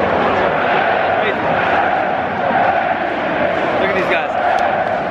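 Dense, loud crowd noise from German soccer fans in a stadium, a steady roar of cheering and chanting voices that holds for the whole stretch without a break.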